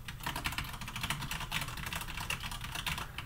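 Steady, rapid clicking of keys on a computer keyboard being typed on close by, an even run of keystrokes with no talking.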